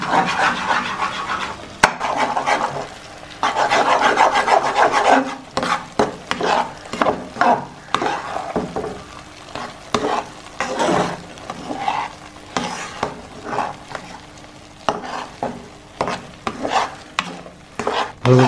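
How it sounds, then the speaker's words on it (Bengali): Lentils stirred and fried in ghee for halwa, with a spoon scraping and rubbing the pan in steady, repeated strokes over a constant close sizzle; no one speaks. "ডালটাকে ঘিয়ের সাথে ভালোভাবে ভেজে নিতে হবে"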